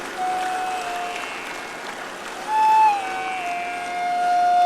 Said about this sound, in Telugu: ముందు ఈ పిల్లలందరికీ బలంగా చప్పట్లు కొట్టండి